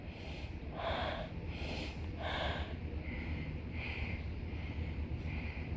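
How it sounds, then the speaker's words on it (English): Slow mouth breathing during a yin yoga session, several soft airy breaths in and out like blowing out a candle, with a steady low background hum and no talking. "you can breathe in and breathe out with your mouth like blowing a candle"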